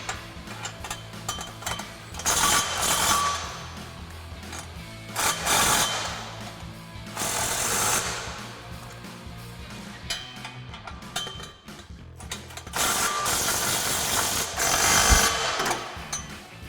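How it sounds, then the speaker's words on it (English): A ratchet with a 14 socket, swivel and extension tightens an exhaust bolt on a 2022-2023 Toyota Tundra, giving repeated clicking bursts separated by short pauses, close by, against a steady background hum. "Tighten that up with our 14, swivel, and our extension."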